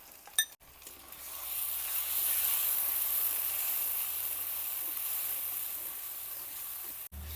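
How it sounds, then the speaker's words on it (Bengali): Ginger, onion and green chili paste fry with cumin, mustard, salt and turmeric in a pan, a close, even hissing sizzle that holds steady for several seconds after a brief clatter. "কিছুটা সময় মশলাটা ভাজা হয়ে গেছে,"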